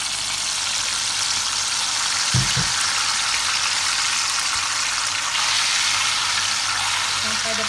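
Coarsely blended chili paste fries in oil in a pan for beef rendang, a loud continuous sizzle with a brief low clunk partway through, close and steady.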